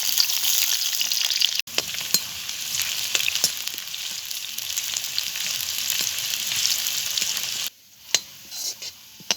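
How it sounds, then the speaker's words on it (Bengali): Onions frying in hot mustard oil in a wok, a steady loud sizzle with scattered crackles and stirring clicks, briefly cutting out twice and ending more quietly. "পেঁয়াজের ভেস্তাটা আমার ভাজা হয়ে গেছে"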